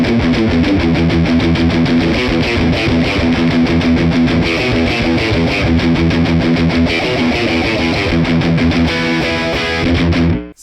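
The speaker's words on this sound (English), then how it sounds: "So there you go, that's distortion." A heavily distorted electric guitar plays a chugging, driving riff continuously and loudly, with crunchy sustained chords and no voices.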